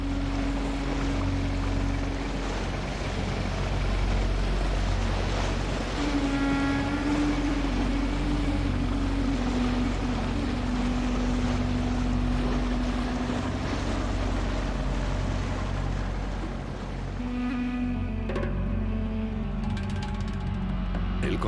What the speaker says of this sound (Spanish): Las barcazas transportan madera, acero y otros materiales de construcción por el canal hacia el río Yangtze